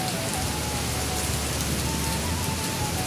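Steady rain pours down in a dense, unbroken hiss of drops, close and even throughout, with no voices.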